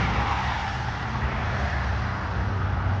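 Car driving in toward Cooter Pond in Inverness, Florida, a steady close road rumble of tires and engine with continuous broadband noise, no voices.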